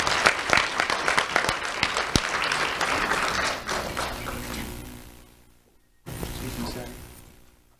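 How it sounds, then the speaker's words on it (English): Audience applause at a sheriff's office Do The Right Thing awards ceremony, a loud burst of clapping that fades out, then a brief renewed round of applause. "Let's have a round of applause for Ibtihaj Chowdhury."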